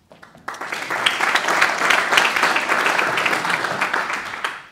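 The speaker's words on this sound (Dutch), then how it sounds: "Applaus zonder dat ik iets gezegd heb" An audience claps throughout a D66 political party event presenting its 2014 European election candidates, with applause that starts abruptly and holds as a dense, steady wash before ending suddenly.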